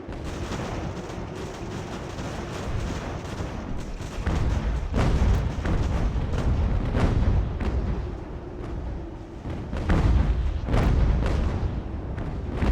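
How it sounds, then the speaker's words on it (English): Mortar and artillery fire in the video game Ultimate General: American Revolution, with repeated booming blasts and scattered musket crackle rolling through a continuous noisy battlefield din. "And this is why mortars are so good."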